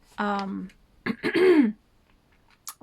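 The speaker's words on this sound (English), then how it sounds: "I'll have to clear my throat like that" A person clears their throat once with a gravelly, rasping sound, followed by a brief pause and a faint click.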